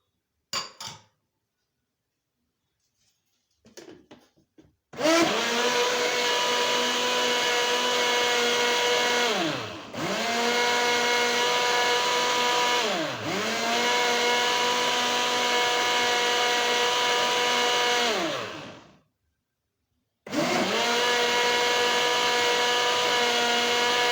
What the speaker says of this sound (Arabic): هبدا ان انا اضربهم في الخلاط اهو